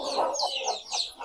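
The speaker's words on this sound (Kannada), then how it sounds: "ಅಂತೂ ಪಿಳ್ಳೆಗಳು ಸೌಂಡು ನೋಡಿ, ಕಚಪಚ ಅಂತ ಸೌಂಡ್" Native country chicken chicks cheep in a busy, overlapping stream of high, thin peeps. The chirps come close together and stay steady in loudness throughout.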